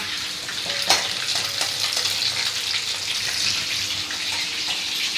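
Whole dried red chillies and a bay leaf sizzle in hot oil with a steady, close hiss, a brief sharp crackle near the start, as the spices go in for a pumpkin, potato and Malabar spinach prawn curry.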